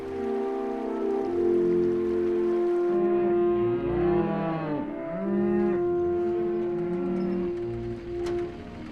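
A herd of mother cows and calves in the Warner Mountains low and moo in overlapping, drawn-out calls, several voices layered over a steady outdoor rumble, fairly near and continuous.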